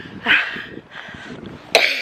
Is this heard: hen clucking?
no